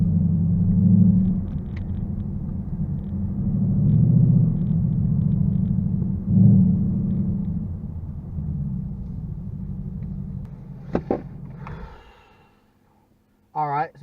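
A Ford Mustang GT with a redone exhaust rumbles low and deep for about twelve seconds, swelling and easing as it idles and rolls, then cuts off before a short noise at the very end.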